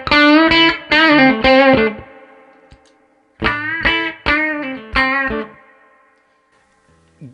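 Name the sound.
electric guitar through Jack DeVille Deuce Coupe pedal, low gain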